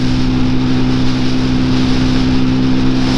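Peugeot PM-01 125cc motorcycle engine droning steadily while riding, a loud, constant mid-pitched hum with wind rush and no break over a few seconds.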